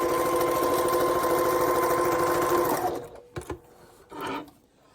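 A Janome HD9 sewing machine stitches a heart pouch seam in a fast, steady mechanical whir for nearly three seconds, then stops, followed by a few soft handling clicks and thumps nearby.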